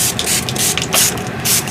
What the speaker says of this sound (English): spraying this so that the water will spread a little bit more nicely